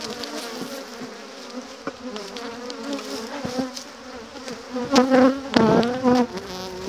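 A populous honeybee colony buzzes steadily at the hive, a dense close hum that swells louder toward the end with no voices.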